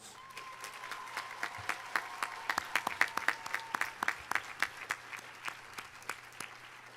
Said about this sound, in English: let us give our families a rousing round of applause